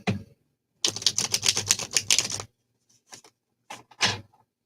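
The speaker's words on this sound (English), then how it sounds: "Let me shuffle the cards, Jason." A deck of cards gets shuffled up close: a fast fluttering riffle of crisp clicks for over a second, then a pause and a few short snaps and taps as the cards are squared.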